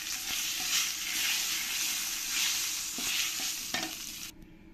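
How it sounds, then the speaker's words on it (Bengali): Dried red chillies and bay leaves fry in hot oil with a loud, continuous sizzle under occasional spatula taps, before the sound drops away abruptly near the end. "এবার আমি এর মধ্যে 2টো শুকনো লঙ্কা আর 2টো তেজপাতা দিয়ে দেব।"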